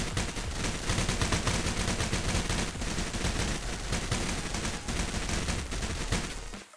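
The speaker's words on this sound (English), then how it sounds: "the Bison is the best gun to fire at the targets right now" Bison gun in the Roblox game Military Tycoon firing at targets, a dense continuous stream of rapid automatic shots, loud and close throughout.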